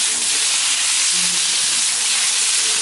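Ingredients searing in a hot wok over a Big Green Egg charcoal grill give a loud, dense, continuous hiss that holds steady with no talk.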